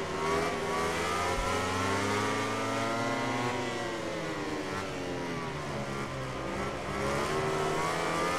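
A racing motorcycle engine in the video game MotoGP 19 whines and revs continuously, pitch sweeping up and down through gear changes, loud and steady throughout with no talk.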